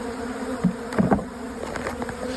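Close, dense buzzing of honey bees crowding leftover hive frames from a queenless colony, with several bees zipping near and away in short louder bursts over the constant hum.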